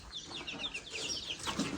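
Fighting roosters cluck and squawk in rapid, overlapping bursts at a farm field, fairly distant and faint against an outdoor background.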